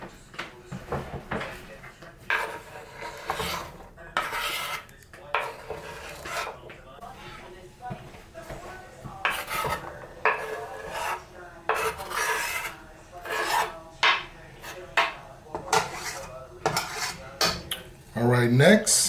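Vegetables tumble into a pot for feta tomato pasta, with a series of close clatters, scrapes and knocks of utensils against cookware and brief rustling between them.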